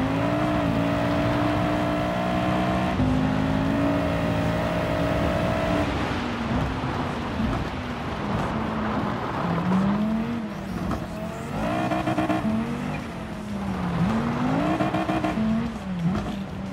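Engine of an Evo rally car racing on dirt in Gran Turismo 7, a loud continuous drone that rises and falls with gear changes and revs, with tire scrabble throughout.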